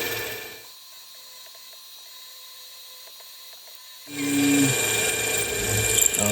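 CNC mill cutting a brake caliper rotor adapter, a steady machine hum with faint tonal whine that drops low, then a louder grinding, buzzing cut swells in near the end, with no one talking.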